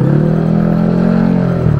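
A motorbike engine hums loudly and steadily as it rides along, with a continuous mid-pitched drone that shifts slightly near the end.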